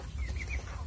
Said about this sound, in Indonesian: Kalkun Borneo.